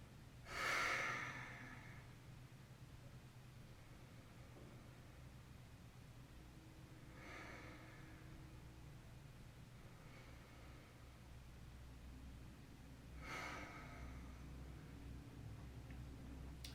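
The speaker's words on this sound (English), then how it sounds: "Close your eyes and take 3 deep breaths in gratitude for that." Slow deep breathing during a morning yoga session: three soft breaths spaced several seconds apart, the first the strongest, over a faint steady background hiss with no talk.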